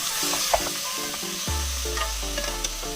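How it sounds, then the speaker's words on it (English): Ground beef browns in a hot pan for chili, a steady close sizzle with repeated scraping and stirring strokes as the meat is broken up. "You want to keep on stirring it and breaking it up as it cooks until all the beef is browned."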